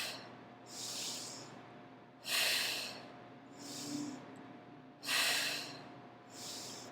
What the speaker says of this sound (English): Down on the inhale, up on the exhale